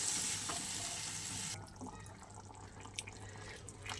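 Water is poured into a pan of simmering prawn curry, a steady wash of sizzle and pouring that stops abruptly partway through, leaving quieter bubbling and a few faint clinks.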